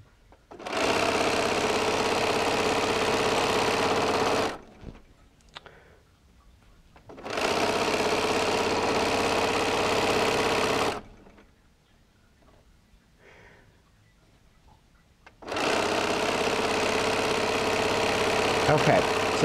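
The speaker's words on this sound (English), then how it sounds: "this is nothing but sewing a straight line" A sewing machine stitches a straight seam on a houndstooth quilt made from charm squares, three steady motor runs of several seconds each, loud and close, separated by quiet pauses.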